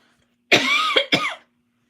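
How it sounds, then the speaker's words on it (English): Two close, sharp coughs in quick succession, the first longer and harsher, then quiet. "sorry for coughing"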